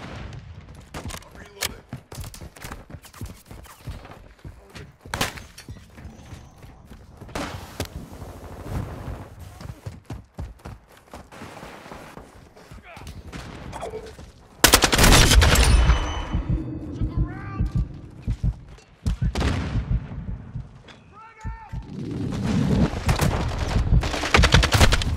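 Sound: gunfire in the video game Warzone 2

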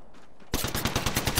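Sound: gunfire in Apex Legends video game

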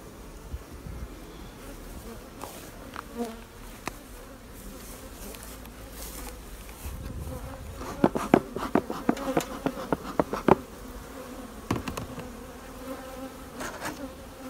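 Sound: honeybees buzzing around a hive

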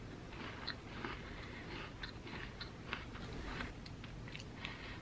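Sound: chewing a Ritz cracker with black lumpfish caviar

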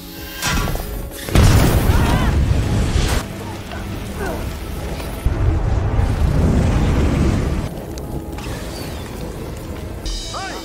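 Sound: explosion of thrown gas cylinder in action film

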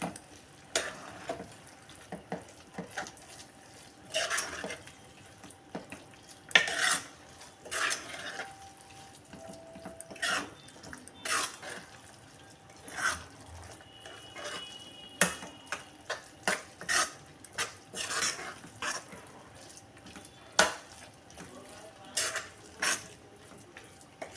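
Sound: stirring masala khichdi in a pot

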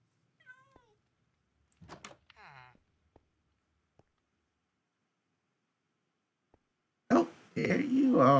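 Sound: cat meowing in the video game Minecraft

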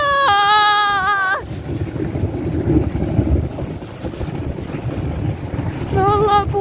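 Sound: strong wind blowing

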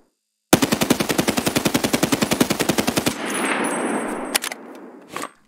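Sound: unsuppressed SA-58 rifle full-auto fire in Escape From Tarkov video game

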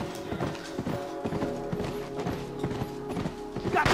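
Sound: horse galloping in The Last of Us video game

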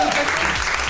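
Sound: applause for singer on stage

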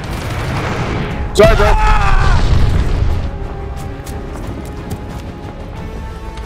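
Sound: glide bomb explosion in Call of Duty: Vanguard video game

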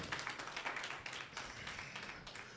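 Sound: congregation clapping hands

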